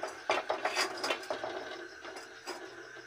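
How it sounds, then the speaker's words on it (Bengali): A karai (wok) set down on a stove while cooking koraishutir kochuri, giving several close metallic clinks and scrapes in the first half, then fading to softer knocks. "কড়াইটা বসিয়ে দেব।"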